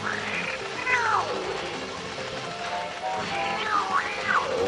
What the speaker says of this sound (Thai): เจอแล้วแมวคอปเตอร์นะครับ